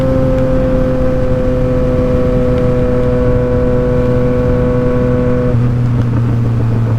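A Yamaha MT-07 motorcycle engine hums loudly and steadily with the throttle lightly tapped, its pitch dropping slightly near the end, heard up close with wind-like road noise.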